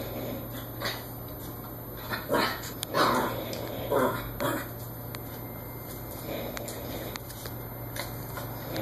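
A Yorkshire terrier lets out several sharp yappy barks at close range, spaced irregularly over a steady background hum, while confronting a guinea pig indoors.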